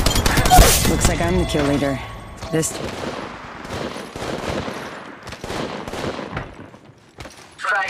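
Rapid bursts of automatic gunfire from the Apex Legends Mobile video game, dense and loud at first and then thinning into scattered shots and impacts, with a player's voice talking over the action.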